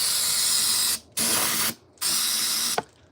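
Carb cleaner sprays onto a Plymouth engine during a rebuild in three loud hissing bursts, each about a second long, separated by short pauses and ending with a brief clink.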